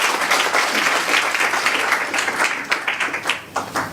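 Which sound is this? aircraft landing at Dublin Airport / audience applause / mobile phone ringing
audience applause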